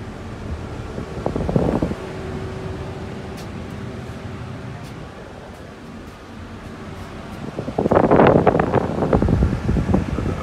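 Overhead air conditioning in a 2016 Grech GM40 executive coach bus, a steady airy fan hiss filling the cabin with a louder gusty surge toward the end.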